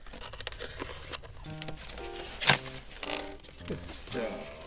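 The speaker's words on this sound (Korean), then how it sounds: "과연 어떤 형태인지 한번 언박싱 해볼게요" A package of Haenam sweet potato bread, a hometown-donation gift, is opened with crinkling and rustling of wrapping, scattered scrapes and a sharp tearing burst partway through, over soft background music.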